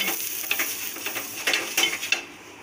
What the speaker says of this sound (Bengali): একটু জলে ছিটে দেব আর তাওয়াটাকে মুছে দেব